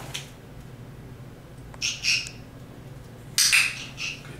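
A trained parrot gives several short, harsh squawks at a home training session, two bursts near the middle and a louder one toward the end, over a quiet low hum.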